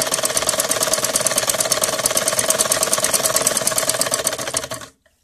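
A sewing machine stitching a salwar, running loud and close in a fast, even stream of needle strokes for about five seconds before stopping abruptly.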